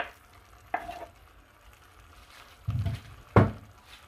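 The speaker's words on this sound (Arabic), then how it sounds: "دابا ملي تشحرات ليا البصله كنضيف داك اللحم" Chopped meat pieces dropped into a pan of browned onions, a soft sizzle under a few sharp stirring knocks and scrapes, close and intermittent.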